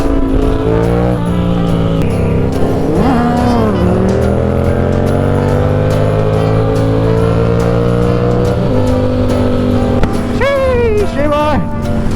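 A motorcycle with low-tread tires spins its rear wheel on the road, engine droning loud and constant while the tires whine and squeal in rising, wavering pitches near the start and again toward the end.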